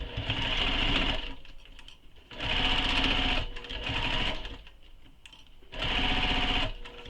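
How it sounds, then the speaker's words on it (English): A sewing machine stitches the side seams of a fabric quiver sling in three bursts of rapid, close-up whirring, separated by short pauses. "So now we're going to sew the sides with the seam allowance given in the pattern"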